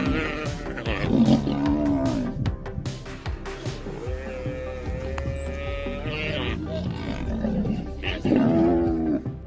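Several deep, growling roars from two lions attacking a buffalo and its calf overlap at close range, rising and falling with grunts between them.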